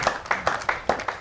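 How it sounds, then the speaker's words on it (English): Scattered hand claps from a crowd at a PBA World Bowls Tour qualifying semifinal, about five sharp, fairly close claps spaced irregularly over a second with no voices. "And the crowd erupts."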